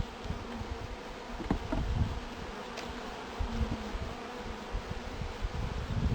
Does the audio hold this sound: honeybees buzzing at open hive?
yes